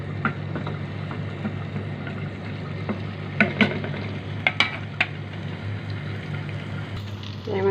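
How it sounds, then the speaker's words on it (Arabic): Minced garlic sizzles steadily in a spoonful of ghee in a home kitchen pan, with a few sharp spoon clicks and scrapes against the metal as it's stirred. "هبتدي بقى ايه اشوح التوم"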